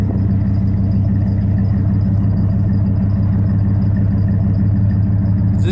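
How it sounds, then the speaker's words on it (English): A 2003 Dodge Ram 1500 Hemi pickup idles with a deep, steady exhaust rumble and an even low pulsing throb, loud and close, with no talking. "Give you sound of the exhaust."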